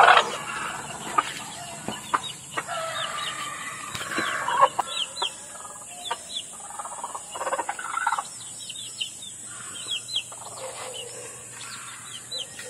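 A backyard hen clucks in soft, repeated calls with scattered chirps from other fowl nearby. The sounds are close and moderate in level over a steady background hum, and no one speaks.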